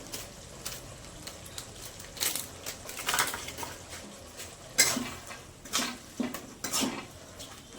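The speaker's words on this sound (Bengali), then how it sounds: "এবার মশলাটাকে ভালো করে কষতে হবে।" Spiced puffed rice masala with cumin, coriander and Kashmiri chilli powder being stirred in a pan, with irregular scraping and clattering knocks of a spoon against the metal, fairly close and moderately loud, no talking.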